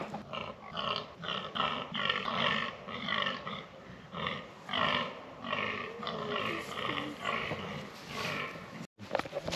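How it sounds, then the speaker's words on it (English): A rutting male deer roars repeatedly at a wild campsite, the hoarse calls coming in a steady series of rough bursts, moderately distant and fairly faint against the night air. "So that noise is apparently the males"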